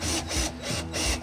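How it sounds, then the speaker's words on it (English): A long screw is driven into wooden supports while rebuilding a generator box in a vintage RV, making close, loud, rhythmic grinding rasps in about four repeated strokes. "what he's doing is screwing that really long screw in there"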